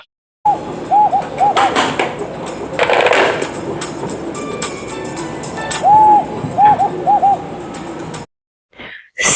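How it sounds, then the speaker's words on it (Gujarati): An owl hooting in short repeated pairs of hoots that come in two bursts, fairly close and clear against a quiet background, with a brief knock near the middle. "OWL ઓવલ એટલે ઘુવડ."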